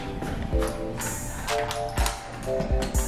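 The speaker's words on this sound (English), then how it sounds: "Let me unlock the door." A home door is unlocked, with a series of sharp metallic clicks and taps from the lock mechanism, spaced irregularly and close by.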